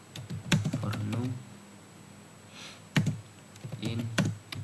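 Someone types code, a shell for-loop, on a computer keyboard: quick clusters of crisp key clicks come in short bursts, with a voice speaking quietly between them.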